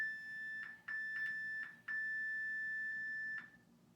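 Workout interval timer sounding a steady high electronic beep in several sustained tones with short gaps, loud and clear with no voices over it.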